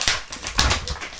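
A dog pestering a rabbit indoors gives a run of sharp, close yelps and whimpering barks in quick irregular bursts, loud and without talk.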